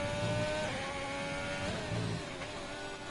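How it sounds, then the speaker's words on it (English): A racing car at the Spa circuit passes by during a race, its engine a steady, fairly faint drone that shifts pitch as it goes, with no talk over it. "Sounds like a car has just gone around."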